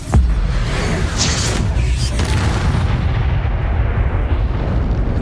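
An Expulso explosion spell from the Hogwarts Legacy video game bursts with a sharp, loud boom, then settles into a heavy, sustained rumble that stays close and powerful for several seconds.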